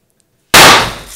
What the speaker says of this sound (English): So without further ado, the confetti cannon.